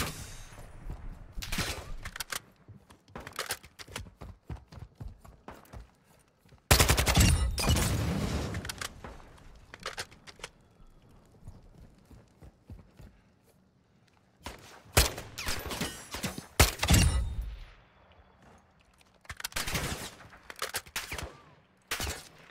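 Rapid automatic gunfire crackles in the shooter game DMZ, coming in repeated bursts of fast, sharp shots that vary from moderately near to louder close volleys, with quieter gaps and faint footsteps between them.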